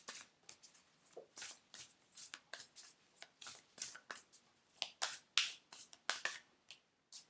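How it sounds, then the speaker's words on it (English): Angels and Ancestors oracle cards being shuffled by hand, giving a quick run of crisp riffling bursts in a steady rhythm, close and clear with no voices. "let's put an Angels and Ancestors card"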